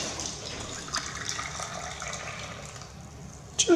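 Water runs from a tap at the Tie Fork rest stop, a continuous splashing hiss at moderate level, ending in a sudden louder surge near the close.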